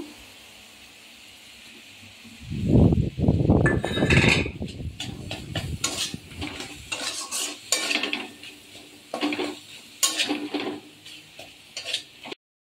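Ginger paste hits a pan of frying spices with a loud sizzling burst, then a spoon scrapes and stirs the masala in steady, close strokes. This is a Bengali kitchen cooking khichuri and aloor dum.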